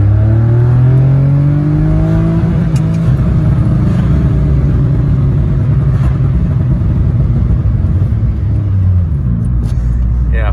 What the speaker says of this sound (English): we've now got a race exhaust system, super free flowing, race tuned exhaust system